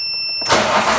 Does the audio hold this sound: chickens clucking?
no